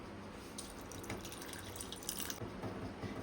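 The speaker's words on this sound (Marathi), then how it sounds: "आता याच्यामध्ये आपण पुरेसं पाणी टाकायचं आहे" Water poured into washed rice and toor dal in a vessel, a quiet, continuous trickle with small splashes and drips, close by and soft.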